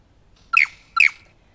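Two loud, short lyrebird calls, squawky and sharp, ring out close by about half a second apart against near silence.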